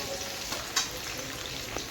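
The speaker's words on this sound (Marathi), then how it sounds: "आपण थोडासा कांदा पण टाकला त्याच्यामध्ये तो पण परतून घ्यायचा मस्त" Onions sizzle and crackle steadily in a hot pan while making noodles, with a brief louder stir or scrape partway through, no voices.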